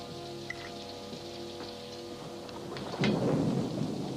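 Steady rain during a storm with a deep thunder rumble breaking in past the midpoint, loud and close over a faint low hum.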